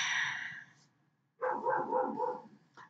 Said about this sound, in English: Sorry, I heard barking.